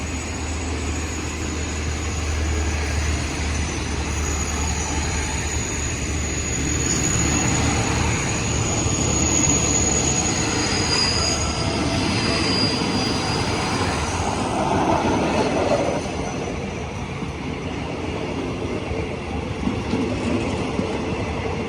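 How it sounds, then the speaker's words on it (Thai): Express train 84 from Trang to Bangkok Aphiwat, hauled by diesel locomotive QSY 5226, passes a level crossing south of Ban Pong station, a loud steady engine roar and rolling rumble sustained throughout with no voices. "ทำขบวนโดย QSY 5226 นะครับสำหรับขบวน ด่วนนี้ 84 นะครับ ต้นทางตรังไปทาง กรุงเทพอภิวัฒนะครับ"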